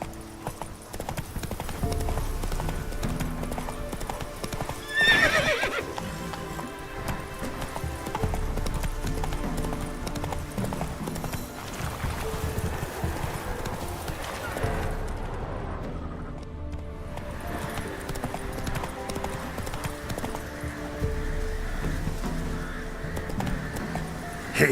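Hooves of Roach, the horse in The Witcher 3, clop rhythmically and close for most of the span, with a short neigh mixed in and a brief quieter lull midway.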